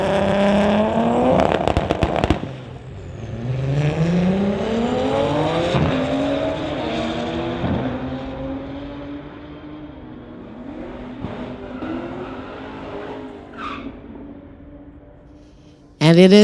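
Street-legal drag race cars, one of them a VW, launching and accelerating hard at a Friday night event, loud engines rising and shifting through gears before fading into the distance, with a commentator talking over them.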